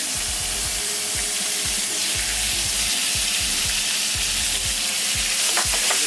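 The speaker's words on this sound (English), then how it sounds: "And everything benefits from a little bit of butter, so we'll get a little bit in the pan." Venison steaks fry in butter in a pan, a loud, dense, continuous sizzle and crackle heard close up with no talking, with steady low popping throughout.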